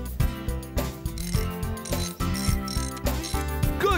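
Cartoon bolting of a wall panel onto a mud hut in a Bob the Builder scene, a loud continuous run of metallic ratcheting clinks and gear-like mechanical rattles with musical tones, no speech.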